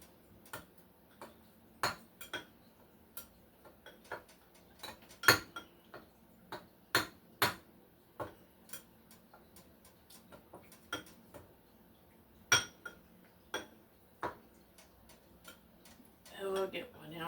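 A kitchen knife working through chicken tinga paste in a bowl gives sharp, irregular clicks and taps against the dish, mostly spaced about a second apart, with a busier scraping flurry at the end.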